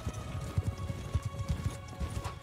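Massed cavalry horses gallop in a Mount and Blade 2: Bannerlord battle, a steady rumbling clatter of hooves thudding in rough rhythm, loud and close, with a faint high battle din above it.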